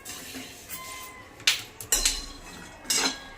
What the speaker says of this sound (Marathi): तीळ भाजणं चाललेलं आहे